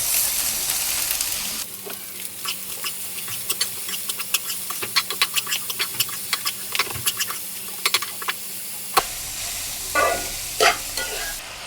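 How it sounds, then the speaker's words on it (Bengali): Onion greens fry in a pan with turmeric and salt, sizzling steadily while a spatula scrapes and stirs in a run of sharp, close clicks and scrapes, then a brief quieter pause before more stirring. "পেঁয়াজ পাতা ভাজা শেষ"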